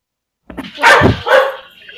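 A small dog gives a couple of short, close barks, loud and alone with no talking over them.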